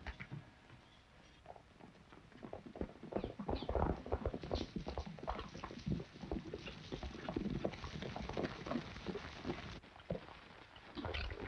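Horses' hooves clip-clop in a steady patter at moderate distance on a trail in a 1941 Western, growing louder after a few seconds and continuing with other rustling movement.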